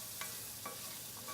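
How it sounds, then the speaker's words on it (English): Vegetables sautéing in a pot for black-eyed pea soup are stirred with a few soft scrapes, heard up close over a quiet, steady sizzle. "So I'm going to separate those really quickly and give that a good stir."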